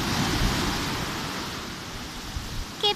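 Sea waves wash onto a beach in a steady, soft rushing surf that fills the whole stretch, with a breezy hiss and no talking.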